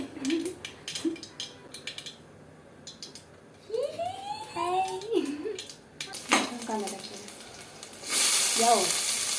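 Mustard seeds and cumin sizzle in hot oil in a home kitchen, with utensil clatter and scattered talk from women at first, then a loud, steady frying hiss at the end.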